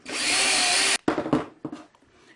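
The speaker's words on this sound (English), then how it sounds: "I can then use the 1/4 inch bit to complete the hole" A power drill with a 1/4 inch bit whirs steadily for about a second, then stops and gives a few short bursts, close by with no talking.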